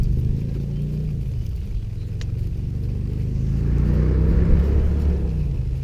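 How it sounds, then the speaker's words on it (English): A noisy motorbike passes on a road, a low engine rumble that swells and fades gradually, moderately loud and steady, with no talking. "It's a noisy motorbike"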